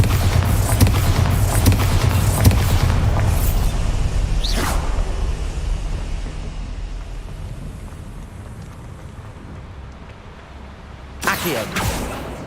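Bombarda blasting spell in Hogwarts Legacy, a heavy boom with rushing whooshes that rumble on and fade, then another burst near the end.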